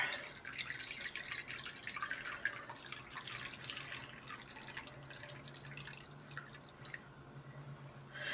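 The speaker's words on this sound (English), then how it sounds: "Next, I'm going to add 350 grams of warm water." Warm water, 350 grams, poured into sourdough dough for an Italian herb and cheese loaf, giving a steady close trickle and dripping with no talking.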